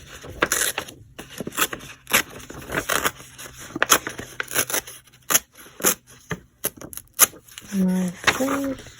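Repeated sharp snips of scissors cutting paper for a small handmade journal, close and crisp in quick irregular bursts, with brief pauses between cuts and a short hum of voice near the end.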